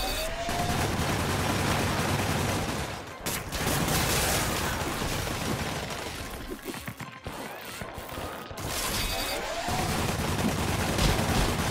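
Dense, near-continuous bursts of gunfire fill a fight in Marvel's Spider-Man Remastered, loud and close, broken by a few short lulls and thuds, with a voice heard faintly in places.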